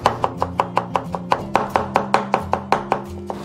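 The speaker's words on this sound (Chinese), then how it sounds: "再给它改刀切丝" A knife shreds peeled lotus root on a cutting board for a stir-fry, striking the board in a rapid, even run of about sixteen crisp chops, close and clear.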